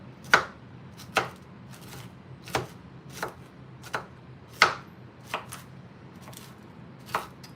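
Knife chopping cauliflower into small chunks on a cutting board: about ten crisp, separate cuts at an uneven, unhurried pace, close by and clear against a quiet room.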